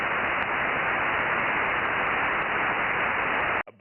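Steady, loud hiss of white-noise static on a 70cm amateur radio net, continuous and unbroken before cutting off abruptly near the end.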